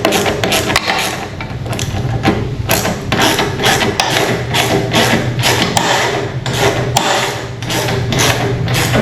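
Repeated sharp metallic strikes on a reel mower's rear drum hardware while loosening it, coming in a quick, uneven series of loud, close hits throughout with a faint mechanical rattle between blows.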